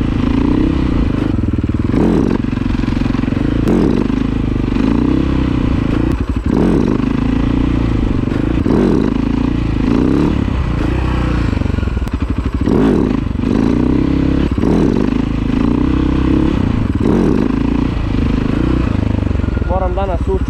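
A motorcycle engine revs and drones loudly and up close while the rider holds a wheelie on the rear wheel, its pitch surging and dropping in repeated cycles, with clattering and scraping mixed in.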